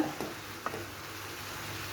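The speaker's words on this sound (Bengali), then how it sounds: "নাইনটি পারসেন্ট ভাজা কমপ্লিট হয়ে গিয়েছে কুমড়ো ভাজিটা" Pumpkin pieces frying in a pan give a soft, steady sizzle with a couple of faint stirring scrapes near the start.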